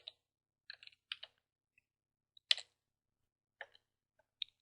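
Light keystrokes on a computer keyboard while a Linux cd command is typed, a handful of quiet, crisp taps in small irregular clusters against a near-silent background.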